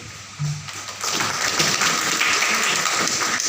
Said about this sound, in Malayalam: അത് കൈയടിക്കേണ്ട